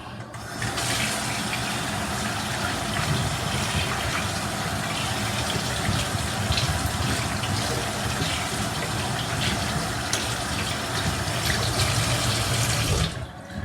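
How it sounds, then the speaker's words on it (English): A kitchen sink tap runs in a strong, steady gush of water for hands to be washed, loud and continuous from start to finish, with no speech over it. "I got better run water to clean my hands"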